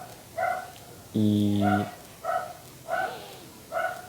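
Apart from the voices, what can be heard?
dog barking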